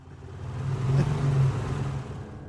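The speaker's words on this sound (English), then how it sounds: "I hear an engine rev behind me." A car engine revs up, swelling to a loud peak midway through and then easing back down, close by and alone without any talk.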